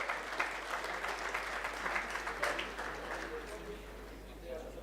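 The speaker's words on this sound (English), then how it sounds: "I think we need one more big round of applause for the big celebration" An audience at an academic conference on innovation and governance gives a round of applause, a steady wash of many hands that gradually thins toward the end, with a low hum underneath.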